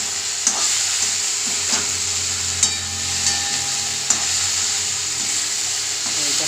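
Prawn and potato curry, just sweetened with sugar, bubbles and sizzles in a pan under a steady hiss, while a spoon scrapes and taps the pan every second or so, close and without speech.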